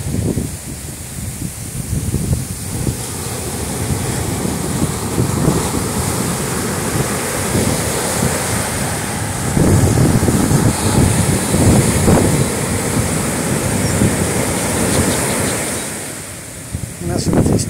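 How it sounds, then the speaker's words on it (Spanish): Sea waves roll onto a beach in a steady wash of surf, with heavy wind buffeting the microphone and a few loud surges along the way. "Ve el mar, oye las olas"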